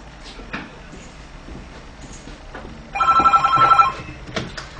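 A telephone bell rings loudly in a short burst of rapid trilling in an indoor domestic setting, standing out over quiet room noise with no talk during the ring.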